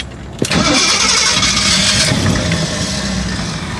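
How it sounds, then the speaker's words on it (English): An old 52-year-old Jeep Wagoneer engine cranks and catches, settling into a loud, steady close-up rumble with a rough idle that fades slightly toward the end. "Hope it's cranking neutral."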